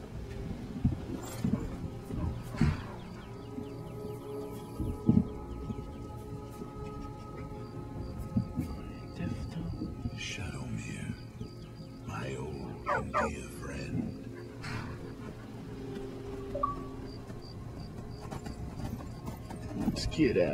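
Horse hooves clip-clop steadily in the video game Skyrim, a continuous plodding rhythm beneath ambient game sound, with occasional faint talk in the background.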